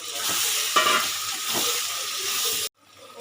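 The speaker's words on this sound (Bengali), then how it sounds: "এবার আমি দিয়ে দেবো পটল ভেজে রাখা পটলগুলো দিয়ে দিলাম" Fried pointed gourd is stirred into a poppy seed masala, a close sizzle with several scraping spoon strokes, then sudden quiet at the end.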